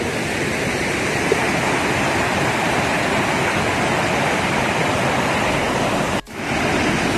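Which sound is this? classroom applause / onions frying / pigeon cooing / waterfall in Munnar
waterfall in Munnar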